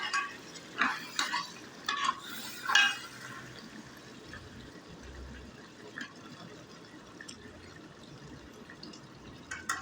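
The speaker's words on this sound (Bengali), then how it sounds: "এখন একটু আমি কষে দিচ্ছি তাকে" Garlic, ginger and tomato are stir-fried in a pan, with a few sharp spatula scrapes and clatters early on, then a quiet low simmering hiss for the rest.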